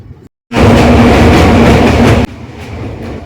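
Tista Torsa Express passenger train crossing a bridge over a large river, a loud, close, steady roar of wheels and carriages that drops abruptly to a softer rumble near the end.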